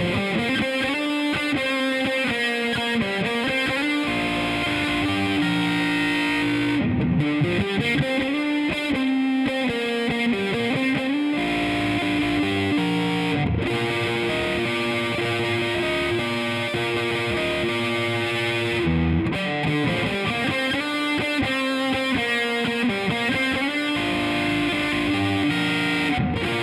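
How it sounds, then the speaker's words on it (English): A Squier Paranormal Super-Sonic electric guitar played through a heavily distorted pedal with reverb, chords ringing thick and saturated with brief pauses between phrases, loud and alone without talk. "Let's also turn on the Halberd, so there's just a lot of distortion."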